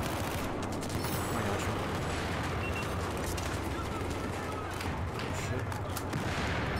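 Dense, continuous gunfire and explosions in the Battlefield 4 video game, loud and unbroken throughout, with a player's excited exclamations over the top.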